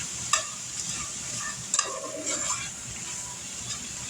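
Hamburger meat fries in a pan with a continuous sizzle, while a utensil stirs and scrapes it in a few sharp, close clatters.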